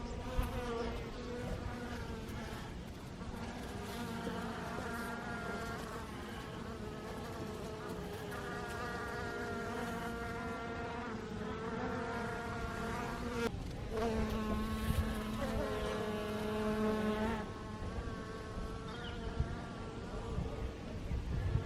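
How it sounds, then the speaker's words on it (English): Bees buzz busily around a hive on a cold day, a dense continuous hum of many insects with individual bees droning past closer at times, and no talking. "I just wanted to share with you guys this cool bee activity going on."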